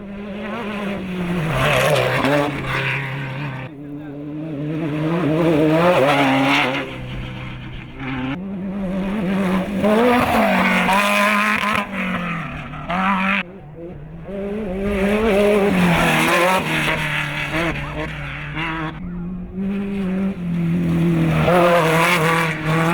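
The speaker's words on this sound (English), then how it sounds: "We're waiting for the first 10 car to come through." An off-road race car roars through the San Felipe 250 desert course, engine revving and surging in loud waves that rise and fall as it passes and shifts, with brief lulls between bursts.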